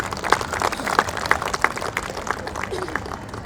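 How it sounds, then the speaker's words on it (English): Audience at an under-16 girls' cricket tournament final ceremony claps in a loose, moderately loud burst, with individual hand claps audible and faint voices murmuring in the background. "So big round of applause."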